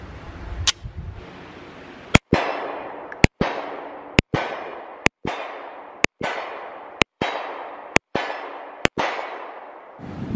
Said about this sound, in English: let's go ahead and start off with the MFP shield 9mm